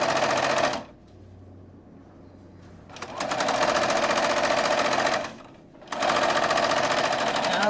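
A sewing machine stitches a bag seam in close, loud, rapid mechanical bursts, running about a second, pausing, then two longer runs separated by a brief stop.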